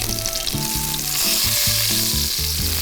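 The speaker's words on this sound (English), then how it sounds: "We're not deep frying, we're shallow frying." Chicken shallow frying in a skillet gives a loud, close, continuous sizzle and crackle, heard alone over background music.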